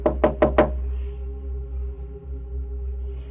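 Four sharp, quick knocks on a door, captured by a doorbell camera, followed by a steady low hum and faint background noise.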